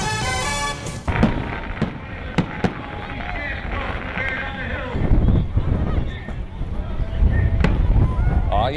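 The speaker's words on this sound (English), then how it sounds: "fireworks and a snowboarding bear helping kick off an annual tradition out at Great Bear Ski Valley tonight" Fireworks bursting at Great Bear Ski Valley during an annual winter event, with sharp cracks and booms scattered through the clip under ongoing crowd chatter and broadcast talk.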